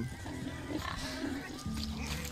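Pigs oinking in a pen in The Witcher video game, a steady run of grunts with a shift in texture about two-thirds through, heard up close without talk.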